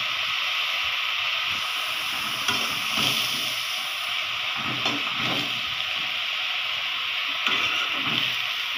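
Vegetable bhaji frying in a pan gives a continuous loud sizzle and hiss, with occasional stirring scrapes rising above the steady frying.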